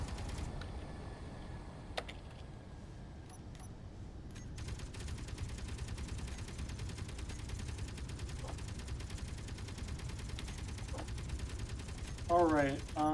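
Rapid bursts of gunfire in the space game Space Engineers rattle continuously under a steady mechanical hum, with a few sharper isolated shots and a brief warbling tone near the end.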